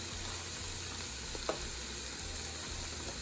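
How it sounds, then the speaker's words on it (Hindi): Almonds fry in carrot halwa with a steady, close sizzle that fills the whole stretch, broken by a brief stirring scrape midway. "अब मैं इसमें बादाम डाल रही हूँ, 1/4 कप है।"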